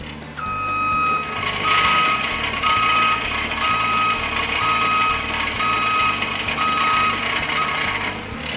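Forklift in reverse gear sounding its reversing alarm, a loud steady train of evenly spaced beeps over a low idling engine, continuing throughout.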